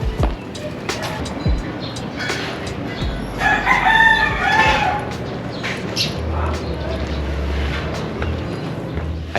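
A rooster crows loudly once in the middle, a long strained call, over busy outdoor background noise and some low rumbling, in the Philippines near Davao.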